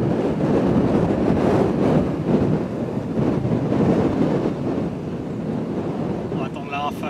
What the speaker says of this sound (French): On va attendre la rafale.